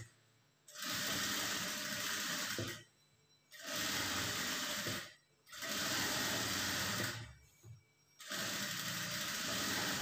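A sewing machine top-stitches a lined blouse in four steady, buzzing bursts of a few seconds each, separated by short quiet pauses, close and alone.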